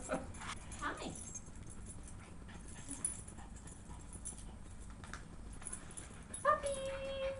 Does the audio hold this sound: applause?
no